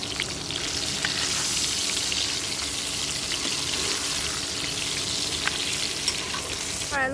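Ingredients for a home-style fish curry with broccoli and tomato fry in hot oil, producing a loud, continuous sizzle with occasional stirring clinks close by.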